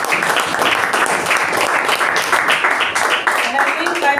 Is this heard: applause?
yes